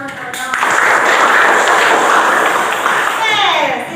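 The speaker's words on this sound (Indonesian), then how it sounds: "Mari kita kasih tepuk tangan pertama" A classroom of students claps for a student group, a steady burst of applause lasting about three seconds, with voices heard briefly before and after.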